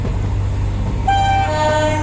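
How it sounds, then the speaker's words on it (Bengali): A cartoon train whistle toots in the distance, a sustained tonal blast rising over a low steady rumble. "ট্রেনের হুইসেল শোনা গেল দূরে।"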